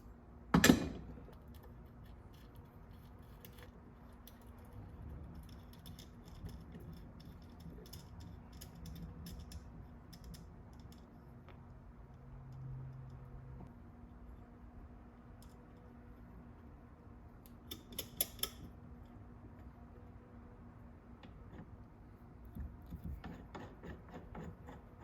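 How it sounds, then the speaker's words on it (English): A case splitter works on cases with a sharp mechanical clack at the start, then quiet fiddling, a cluster of quick ratcheting clicks near the end and a final snap, all fairly faint with no talk. "Now we gotta get our case splitter. Split these cases."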